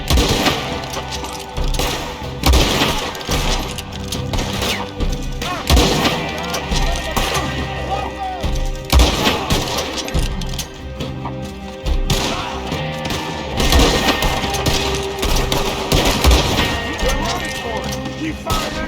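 Sustained gunfire in a Red Dead Redemption 2 Online shootout mission, a dense run of close, loud shots and volleys crackling repeatedly over a battle soundscape for the whole stretch.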